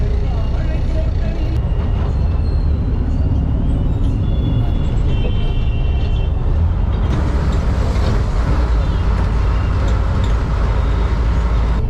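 A city bus on the Kunrathur to Kilambakkam route in Chennai slows and halts at the Chromepet Saravana Stores stop, heard from inside as a loud, steady engine rumble with a hiss of brakes partway through.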